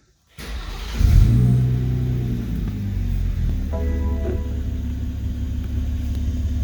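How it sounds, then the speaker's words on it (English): A car engine cranks and catches, then settles into a steady idle rumble, loud and close, with no one speaking. "And now we'll start up the car."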